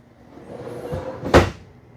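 A full-extension ball-bearing guided drawer in a 2023 Tandara 340RD fifth-wheel RV slides shut with a short rolling glide ending in one sharp, close thud.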